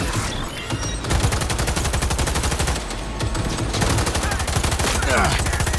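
Heavy guns firing in the video game Cyberpunk 2077: loud, rapid automatic bursts hammer almost without pause, with only brief dips in the barrage.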